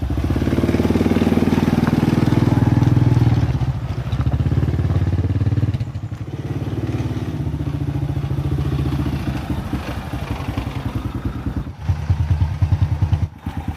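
A motorcycle engine idles loudly and close by, a rough rattling putter that dips briefly and then keeps running with some clattering.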